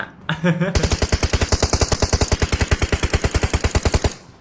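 Automatic gunfire in the mobile game PUBG Mobile rattles out as a loud, steady burst of about thirty rapid shots, preceded by a brief short sound, with no talk over it.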